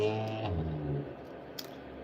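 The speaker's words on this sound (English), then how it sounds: "there's a lot of muscle cars in this neighborhood." A muscle car engine rumbles with a deep, low drone that swells briefly and then fades, passing nearby in a residential neighborhood with no voices.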